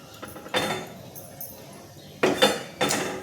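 A metal cooking pot set down on a stove in a home kitchen while making payasa: a few sharp metallic clanks and clinks, close and separated by quiet pauses.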